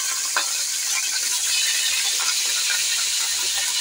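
Browning onions sizzle in a cooking pot as a home cook prepares a chicken curry, a steady bright hiss with faint crackles running continuously and fairly loud throughout.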